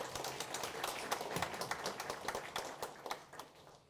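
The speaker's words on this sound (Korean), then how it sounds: "격려의 박수 한번 좀 부탁드리겠습니다" Scattered, fairly faint applause from an audience at a Gunwi County citizens' meeting and policy briefing, with individual claps clearly separated in an uneven rhythm that thins out near the end.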